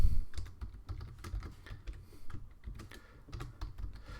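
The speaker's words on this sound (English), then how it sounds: "Let's let our user type an email address." Rapid keystrokes on a computer keyboard as an email address is typed, an irregular run of close, crisp clicks continuing for several seconds with no talk.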